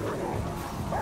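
A dog barks in the video game Remnant From the Ashes, a short burst of faint, muffled barking and yipping under a low background hum.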